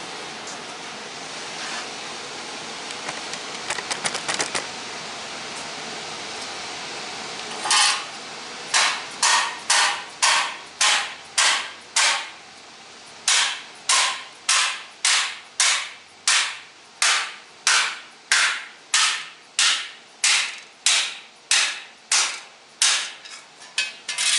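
Metal of a bent 1977 Toyota Celica GT rocker panel is hammered in a steady run of about twenty loud, evenly spaced blows, preceded by a few scattered knocks and scraping.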